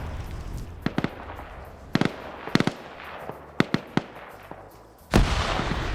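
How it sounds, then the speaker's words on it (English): Explosions and sharp blasts in a 120-player PvP military shooter, a grenade going off among scattered pops and bangs, ending in a loud, close, sustained burst of noise. "Oh, grenade goes off."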